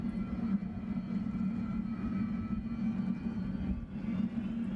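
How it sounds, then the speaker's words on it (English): Jet aircraft at the Kleine-Brogel Spotters Day military air show, a steady, loud engine roar with a low rumbling drone holding constant throughout, no voices. "Pretty awesome aircraft."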